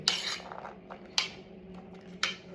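A salad of tomato, carrot and pomegranate is mixed in a bowl: three sharp utensil clinks spaced about a second apart, with soft stirring and squishing between them, close and fairly quiet.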